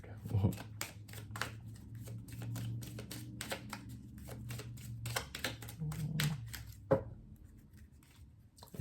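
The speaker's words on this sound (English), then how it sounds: "We'll pull one more card, and it will be an Angelarium card." Angelarium oracle cards being shuffled by hand, a steady run of crisp papery riffs and flicks close up, with a low hum underneath.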